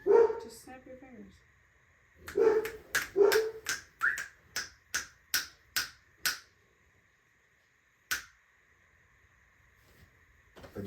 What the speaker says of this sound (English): just snap your fingers.